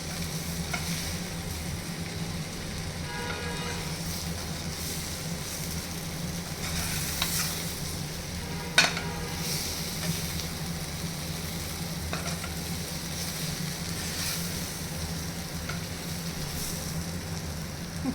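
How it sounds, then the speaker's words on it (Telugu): Egg fry being stirred and turned in a hot pan: a steady, close sizzle of frying runs throughout, with scraping stirring strokes and a few sharper clinks of the spatula against the pan, and no talking. "మళ్ళీ ఒకసారి కింద నుంచి కలుపుకోవాలి"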